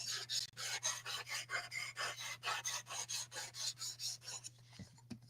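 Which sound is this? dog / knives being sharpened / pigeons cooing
knives being sharpened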